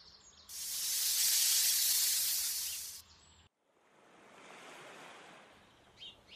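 Sea waves rush onto the shore near a seaside house at Porboué Wharf, a loud broad wash that swells and cuts off abruptly, then a softer second surge rises and fades.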